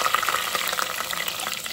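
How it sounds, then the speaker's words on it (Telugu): Goat head curry frying in a pan until golden brown, a steady close crackling sizzle with small pops throughout the brief moment, no voices. "ఈ విధంగా గోల్డెన్ బ్రౌన్ కలర్ వచ్చేదాకా ఫ్రై చేసుకోవాలి"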